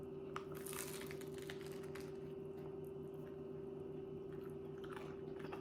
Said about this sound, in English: you hear the bread crunch?